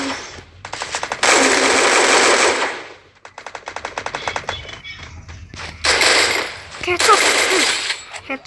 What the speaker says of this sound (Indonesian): Oke, di sini saya bakal nembak.